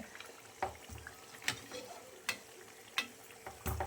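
Chakli frying in hot oil while pieces are turned one by one, a soft bubbling sizzle broken by four or five sharp scraping clacks of a utensil at roughly regular intervals.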